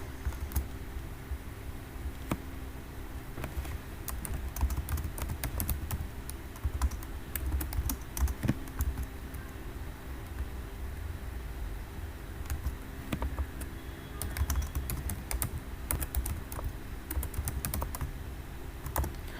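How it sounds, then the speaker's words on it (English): Typing on a computer keyboard, a sparse run of separate key taps and small clusters, close but fairly soft over a constant low room hum, with no talking. "I am typing in the inbox"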